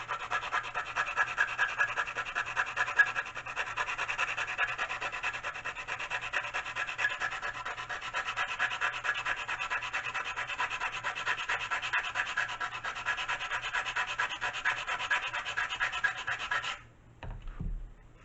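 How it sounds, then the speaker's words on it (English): Hand sanding a bevel into the wooden fuselage of a pylon racer model gives a steady, close rasping scrub of continuous strokes for about seventeen seconds, then stops with a soft knock. "I do recommend sanding a bevel along here."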